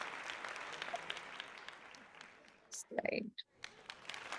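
Online meeting participants break into a short burst of applause and cheering, loud and brief, after calm talk continues around it.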